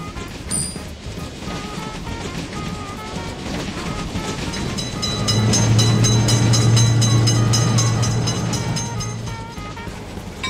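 A train rumbles past a level crossing, its low roar swelling midway and then fading, with rhythmic clatter and faint tones above.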